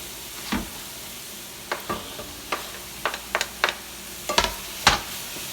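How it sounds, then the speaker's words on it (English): Tomatoes being stirred into a sauce in a frying pan for a meal-kit dinner: soft scraping spoon strokes and clatters land irregularly over a faint steady sizzle, close and fairly quiet, with no talking. "So I'm going to stir in the tomatoes."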